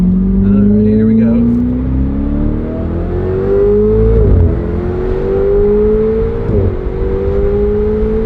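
A Jeep Trackhawk accelerates hard, its engine note climbing steadily through the gears with brief dips at each shift, loud and close.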